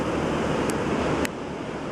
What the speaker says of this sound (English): That's the water emptying out of the other lock where the freighter was.